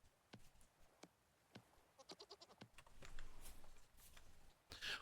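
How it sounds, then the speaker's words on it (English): Several goats bleat in a busy mix in the video game Vintage Story, with scattered clicks and ticks throughout; the calls are fairly close and overlap toward the end. "The goats are so cool."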